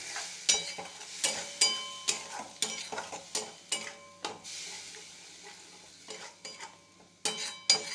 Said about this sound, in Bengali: এবার এই বাটাটা দিয়ে দিলাম, দিয়ে নাড়বো।